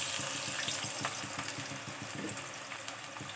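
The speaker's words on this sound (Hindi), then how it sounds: "कढ़ाई में ऑयल गर्म हो गया है, हम इसमें प्याज डाल देंगे" Long-sliced onions fry in hot oil in a kadhai, giving a steady close sizzle with faint stirring scrapes throughout.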